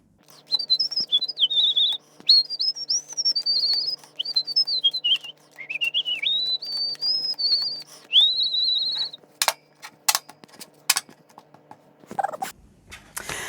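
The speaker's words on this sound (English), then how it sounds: "I'm going to speed up this shuffle with a bit of a whistle" A person whistles a wandering melody in sustained, sliding phrases for several seconds, then a few sharp clicks and a rustle end the clip.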